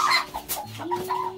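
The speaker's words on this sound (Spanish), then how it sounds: "por qué no puede sacar ni siquiera la gallina" A hen clucks close by in a few short, throaty bursts, with a steady tonal hum running underneath.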